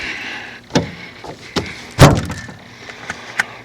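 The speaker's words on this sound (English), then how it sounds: "Close this door back." A storage room door in a winter food storage space is pushed closed, giving a few knocks and a firmer thunk in the middle, heard up close with no talking.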